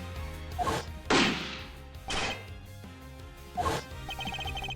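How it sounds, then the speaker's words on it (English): A bullet strikes something on a recorded tape in the video game Ace Attorney Investigations, heard as several sharp impact bangs and thuds spaced about a second apart amid background game music. "you can hear that bullet hit something too"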